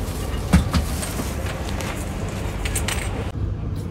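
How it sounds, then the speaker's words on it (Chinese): Interior of a moving train from Kuala Lumpur to Penang in Malaysia: a steady low rumble with a couple of faint metallic clinks, continuous throughout. "火车出发"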